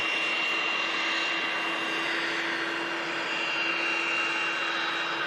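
NetJets Cessna jet departing Manchester Airport, a steady broad roar of the engines held at constant loudness throughout, with a thin high whine running through it and no voices.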